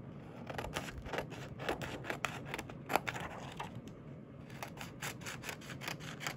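Scissors snip through an acetate sheet for a vintage craft pouch, giving a quiet, close series of quick rhythmic cuts and rubbing sounds, with a short pause midway before the snipping resumes.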